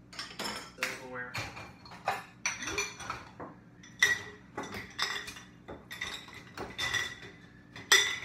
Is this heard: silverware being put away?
yes